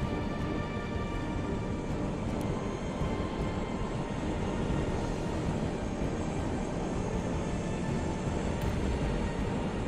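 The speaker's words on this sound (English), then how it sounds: "what with that helicopter?" A helicopter in the video game SCP: The Expedition, a steady dense engine and rotor drone that holds constant and fairly loud throughout, with faint ticking clicks above it.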